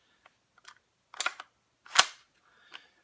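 A KWA PTS Masada gas blowback airsoft rifle fires a few crisp, sharp cracks with mechanical clicks between them, close and isolated against near silence.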